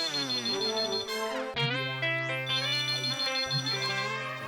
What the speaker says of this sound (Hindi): फोन उठाऊं कि नहीं उठाऊं?